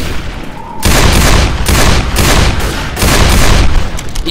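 Heavy gunfire in Left 4 Dead 2 on Expert mode, loud sustained bursts of automatic shots starting abruptly and pounding on in repeated volleys with only brief gaps.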